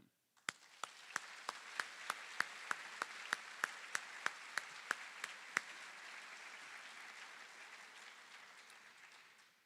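Scattered, distinct claps ring out at a steady pace over a soft wash of crowd noise at a university white coat ceremony, lingering and slowly fading.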